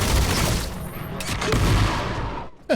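Grenade launcher blasts in the video game Armatus, dense low booming bursts layered with gunfire-like crackle, loud and continuous through the moment, ending on a sharp close boom.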